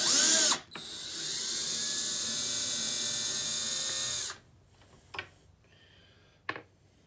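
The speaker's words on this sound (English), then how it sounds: "it's just going to be a matter of putting the small screws in" A small power screwdriver drives screws into a vintage carnival clown sign, a steady high whirring burst lasting a few seconds, then a pause and two short sharp clicks, close and clear in a quiet room.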